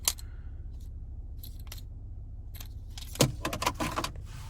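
A key fob for a 2020 BMW 840xi M Sport Gran Coupe jangles in a few bright, metallic bursts, with a louder clinking cluster near the end, heard close up over a low background rumble.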